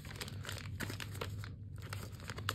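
Papers and an instruction manual rustle and crinkle as they are handled from a Glock 45 9mm pistol box, with close, continuous crumpling and a brief pause partway through.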